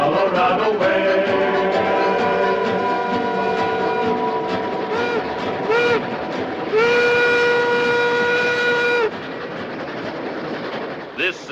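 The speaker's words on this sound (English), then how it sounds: "here's the first train to go out over the high iron" A train on a Colorado mountain railroad through the Rockies, its whistle sounding in long tonal blasts over the rumble and clatter of the cars, loud and near throughout.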